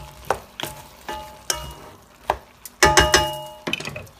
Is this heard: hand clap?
no